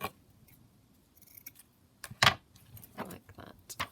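Scissors cut ivory lace trim for a handmade journal: a few crisp, close snips, the sharpest and loudest one in the middle, then two lighter cuts near the end in a quiet room.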